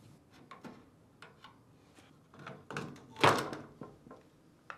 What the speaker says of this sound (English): To separate the adjuster cover from the housing, pry on both sides using a flathead screwdriver.